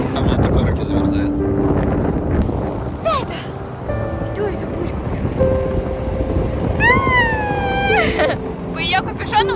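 Wind gusting outdoors on an Argentine ocean coast, buffeting the microphone with a continuous low roar while people talk and a voice rises over it.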